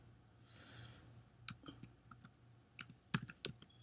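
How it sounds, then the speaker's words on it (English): Clicky keystrokes on a computer keyboard as a username and password are typed, arriving in short irregular bursts with brief pauses, close and moderately quiet with no talking. "Gonna type up the username and password so you can see everything in real time."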